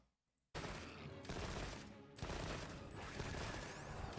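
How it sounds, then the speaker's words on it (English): Rapid weapon fire from the video game Monster Hunter Wilds, a dense burst of four or five loud shots with explosive impacts and continuous harsh noise after a quiet start. "Sounds like 4 or 5 shots, which is pretty crazy."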